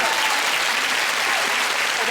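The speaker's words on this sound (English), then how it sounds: "That's worth a round of applause." Studio audience applause at a British comedy show, a dense continuous burst of clapping, loud and close, with a few voices mixed in.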